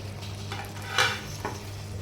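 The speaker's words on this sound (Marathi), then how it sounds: "पनीर मसाल्यामध्ये आपण व्यवस्थित मिक्स करून घेऊयात" Paneer being stirred and fried in masala for matar paneer: a low steady sizzle with scraping spoon strokes and a couple of light metallic clinks against the pan, close and fairly quiet.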